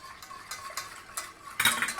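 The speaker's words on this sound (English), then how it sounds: "Give it a stir." A spoon stirs a whiskey bourbon cream sauce in a pot, making a few soft scrapes and clinks that grow into a louder clatter near the end, quiet and close, with no talk.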